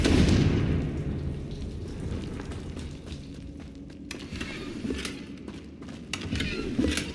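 A Confringo spell explosion in Hogwarts Legacy: a loud boom at the start that rolls off into a rumbling tail, followed by scattered crackling bursts over low ambient noise.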